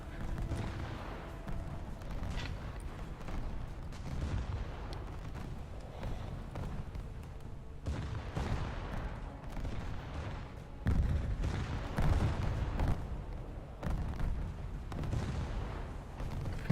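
Naval gunfire from the Kronstadt battlecruiser in a warship battle game, repeated deep booming salvos rolling at a steady mid-distance loudness throughout.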